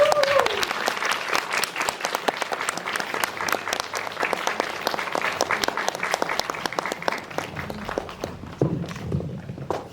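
An audience at a film Q&A screening applauds steadily as the actors come forward, with the clapping sustained for several seconds under a few voices before tapering off.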